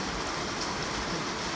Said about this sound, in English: Now we can all see the rain. It's super heavy right now.